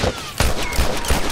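Gunfire in The Last of Us Factions multiplayer on PS5, a rapid string of loud close shots in quick succession, dense and continuous with no talk.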